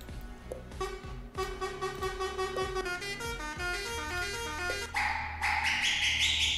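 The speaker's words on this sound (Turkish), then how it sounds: "Mesela korna seslerine bir bakalım." A run of different Ford F-Max truck horn blasts in a video game in quick succession, some melodic and musical, others buzzy and sharp, ending in loud bright honks over a low engine rumble.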